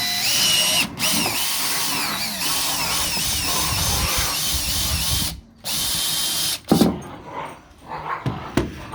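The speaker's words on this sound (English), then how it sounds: "So, got me a 3/8 to 1/2 inch drill bit." A power drill with a 3/8 to 1/2 inch bit bores into a plastic compost bucket, loud whining bursts that stop and restart, with a dog barking in the background.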